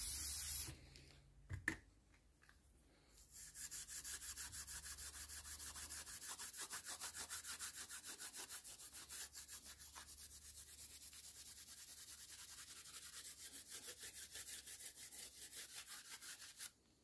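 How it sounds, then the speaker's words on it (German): Rapid rhythmic rubbing of a sanding pad across a surface during cylinder head replacement on a VW Golf 4 engine, a steady scratchy back-and-forth that keeps going after a few opening bumps. "Das ist ein Schleifpad."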